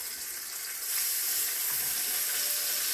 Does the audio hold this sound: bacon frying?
yes